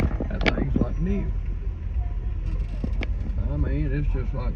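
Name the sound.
riding in a 1967 car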